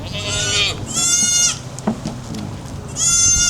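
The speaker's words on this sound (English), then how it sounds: "Attack goats." Goats in a pen bleat loudly and repeatedly up close, with several long wavering cries in bursts and a few thumps and rustles between them.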